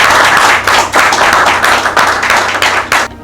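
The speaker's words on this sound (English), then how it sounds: "I want to thank and give a big round of applause to the mentors that are here" Loud, close clapping from an audience at a mentorship academy graduation, honoring the mentors, with distinct bursts and strong individual hand claps pulsing in an uneven rhythm.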